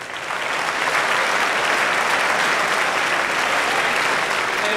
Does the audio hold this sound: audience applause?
yes